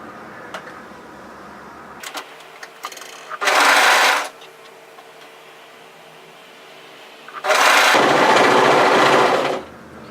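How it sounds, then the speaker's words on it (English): A home sewing machine stitches the back seam of a cowl neck top in two loud, steady whirring runs separated by a quiet pause. "to sew the back seam over the bulk"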